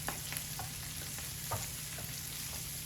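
Quiet, steady sizzle of ribeye steak frying in a pan, with soft crackles and pops scattered through a low background hum.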